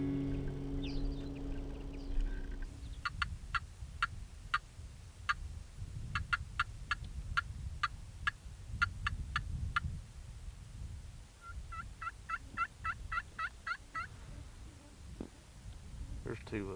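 Wild turkeys gobble in a stretch of public land in North Carolina, sounding as sharp, rattling bursts repeated in quick series from a distance, with soft low rumbling underneath.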